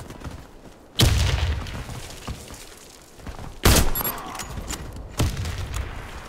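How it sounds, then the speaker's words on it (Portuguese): A grenade explosion and gunfire in the video game CrossFire: three heavy booming blasts with loud crackling bursts at irregular intervals, each trailing off into rumbling decay. "Lançando granada!"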